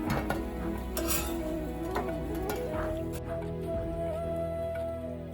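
Golden-brown fried bread pieces being lifted out of a pan of hot oil, steady frying sizzle with metal utensil clinks and a faint tonal hum throughout.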